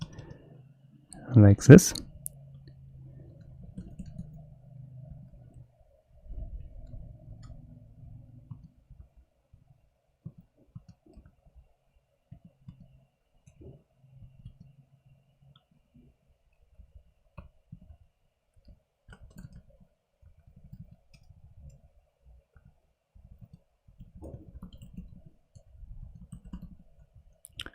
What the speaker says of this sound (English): let's just type it